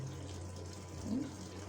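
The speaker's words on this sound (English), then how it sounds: "now you can see the water is coming inside" Water filling the drum of an LG fully automatic washing machine, fed straight from the tap: a steady, low rushing flow under a constant hum, with a slight swell toward the end and no talk.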